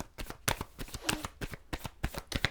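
Wild Unknown Tarot cards being shuffled by hand, a quick run of crisp riffling bursts and soft slaps repeating steadily, close and alone with no talk.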